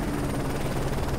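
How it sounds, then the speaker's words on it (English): Enemy helicopter approaching in a Call of Duty game, a brief steady rotor thrum and whine heard alone at moderate loudness. "Enemy chopper closing on your position."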